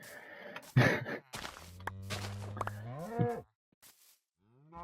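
Cattle mooing in a video game where the cows are red, several drawn-out low moos with rising pitch, loud and close, ending in a quieter call after a pause.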